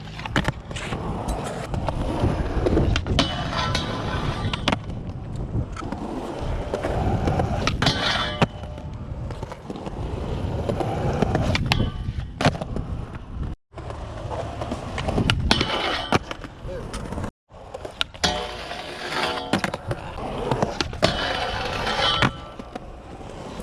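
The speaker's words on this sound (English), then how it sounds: "come flying around this corner, shoot on, pop, grind the whole thing, and then just keep going" A skateboard rolls through a skate park with steady wheel rumble, sharp pops and clacks, and scraping as it grinds along a rail, loud and close throughout.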